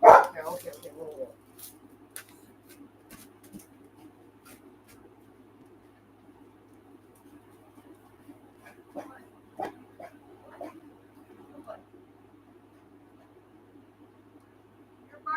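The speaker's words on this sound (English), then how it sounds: "You're barking at literally nothing." A dog barks a few times, loud at first and then in sporadic bursts, with quiet room noise and faint bird-like calls between.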